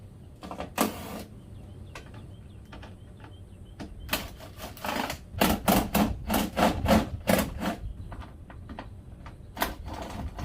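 A Ryobi cordless drill removes the screws holding a car grille, sounding in short bursts of whirring and ratcheting, several quick pulses clustered in the middle, close-up over a faint background hum.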